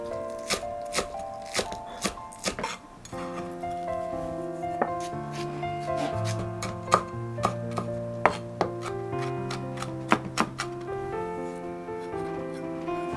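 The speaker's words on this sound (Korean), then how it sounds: "양념장에는 쪽파와 청양고추를 하나 썰어서 넣을 거거든요" A knife chops scallions and Cheongyang chili peppers on a cutting board: a run of sharp, close, fairly loud blade taps in an irregular rhythm, with background music playing throughout.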